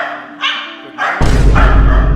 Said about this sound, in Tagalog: maingay yung aso ko sa back